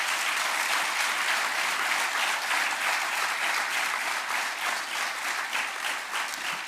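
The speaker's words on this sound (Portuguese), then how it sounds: "Uma grande salva de palmas aos nossos imigrantes todos." A large crowd applauds steadily at a municipal swearing-in ceremony for newly elected local officials, a dense, even wash of clapping that holds for several seconds and softens slightly near the end.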